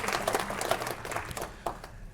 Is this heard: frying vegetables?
no